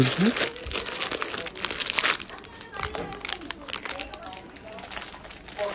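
Foil being handled and crinkled in a flat, with dense crackling rustles that come in bursts, loudest early and then continuing more softly, while a voice talks over it.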